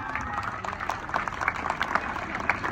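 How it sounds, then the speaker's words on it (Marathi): A crowd at a local political gathering claps together, a dense, continuous patter of hands with a faint voice underneath. "हात वर करून टाळ्या वाजवा"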